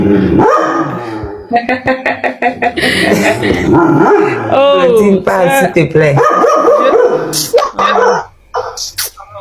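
A dog barks in sharp, repeated yips at a live evening broadcast, the barks cutting in and out over someone speaking French into a microphone, close and loud.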